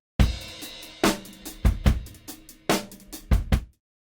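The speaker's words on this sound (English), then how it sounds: "I just have the drum loop from the previous videos that's loaded up that sounds like this" A drum loop played back in Kontakt, punchy kicks and crisp snare and hat hits in a tight groove lasting a few seconds, dry and close, ending abruptly.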